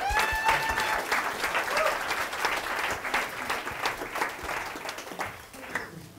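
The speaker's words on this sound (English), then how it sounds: "So can we give her a big round of applause" Warm audience applause at a conference greets a speaker taking the stage, a full burst of clapping throughout with a few voices calling out over it.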